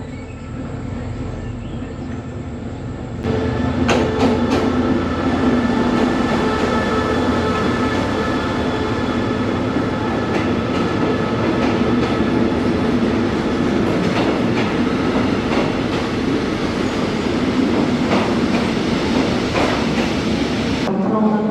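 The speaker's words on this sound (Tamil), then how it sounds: "படாங் பசார் போகிறதுக்கு ட்ரெயின் இப்போ வர போகுது." A train bound for Padang Besar pulls into a station on the Thailand–Malaysia line. After a quieter opening, a loud rumble arrives abruptly and holds steady, with rhythmic wheel clicks and faint squeals running through it.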